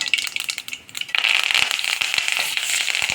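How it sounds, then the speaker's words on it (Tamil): Curry leaves hit hot oil in a pan while making a beans pepper curry, and a dense, steady sizzling crackle bursts in about a third of the way through, staying loud and close until the end with no voices. "கொஞ்சம் கருவேப்பிலை போட்டிங்கன்னா வெடிக்கும்"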